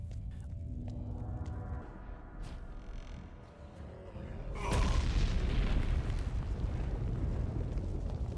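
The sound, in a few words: Meteor spell explosion in video game Gothic 3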